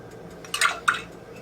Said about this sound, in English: now to this, I am going to add a tablespoon of red wine